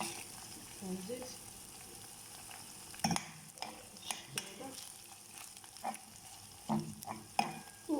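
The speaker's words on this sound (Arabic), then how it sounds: "هاهي الكفته ديالنا كنديرها في الفرادة كتشحر مع الزيت." Kofta meatballs frying in oil in a pan give a low, steady sizzle, broken by several louder scrapes and clatters as they are turned and stirred.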